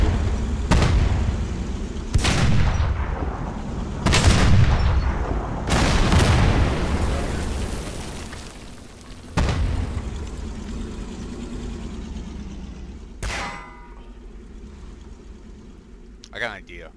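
Heavy tank cannon and artillery blasts in the war game Foxhole: a run of loud, booming shots about every two seconds, each with a long rumbling tail, then a sharper crack later. Voices talk in the background.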